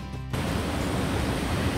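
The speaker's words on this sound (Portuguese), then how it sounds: "E agora eu tô aqui na cachoeira do Coqueiral" The Coqueiral waterfall in Monte Sião, Minas Gerais, runs high in the rainy season, its water rushing in a loud, continuous broadband roar that starts abruptly and holds steady with no talking.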